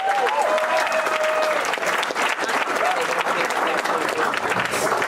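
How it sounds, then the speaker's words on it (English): Audience applause fills a comedy club, dense steady clapping with scattered cheers and whistles that stays loud and continuous throughout. "Make it very loud for Steve Ausburne."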